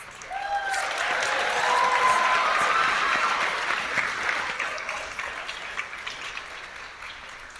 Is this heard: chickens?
no